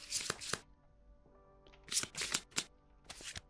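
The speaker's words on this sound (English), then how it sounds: "Shuffle these up." Cards being shuffled for a Kingdom Death board game session, several quick riffling bursts close by with brief pauses between them.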